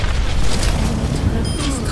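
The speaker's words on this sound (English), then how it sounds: "Enemy turret destroyed." A turret being destroyed in the video game Overwatch, heard as a loud, continuous booming rumble with a dense crackling texture that fills the short moment without a break.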